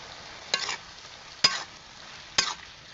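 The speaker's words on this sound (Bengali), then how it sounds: "জিরা দিয়ে একটু নেড়ে চেড়ে নামিয়ে নেব।" A pan of fig curry stirred after ground cumin goes in: three distinct scraping stirs about a second apart over a faint, quiet sizzle, close by and with no voices.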